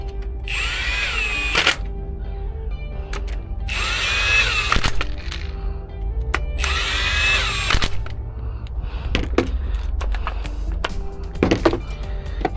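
A power tool drills in three bursts as it runs the injector cup bolts down until they seat, each burst whining for about a second, followed by quieter clicks and knocks of workshop handling; no talk.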